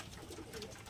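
A Giribaj pigeon held in the hand gives a brief, soft coo, faint and close, lasting under a second.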